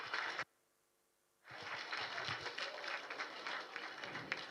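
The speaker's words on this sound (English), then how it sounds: "I think we should all give him a great round of applause." A round of applause from the audience at a panel discussion: a brief burst of clapping, then near silence, then steady, moderately loud clapping from many people that continues to the end.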